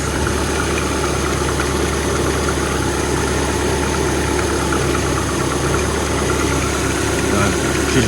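An old, rotten abandoned Ford engine idles steadily and fairly quietly, a continuous close mechanical drone with a faint tick, running unbroken throughout.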